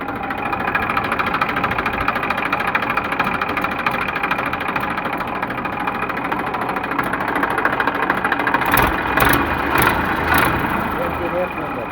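A 2012 Massey Ferguson 241 DI tractor engine idles steadily close by, a continuous diesel rumble with a brief burst of louder clatter near the end.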